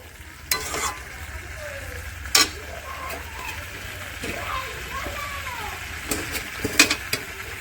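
A spoon stirs chicken curry after fried potatoes are added, with soft scraping and occasional sharp clinks against the pot over a low sizzle while someone talks.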